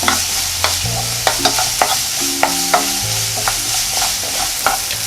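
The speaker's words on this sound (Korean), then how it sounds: "중간에서 약한 불로 중약불로 볶아주고 있어요." Salted Korean zucchini stir-fried in a pan over medium-low heat, with a soft steady sizzle broken by regular, close scraping and tapping strokes of a spatula.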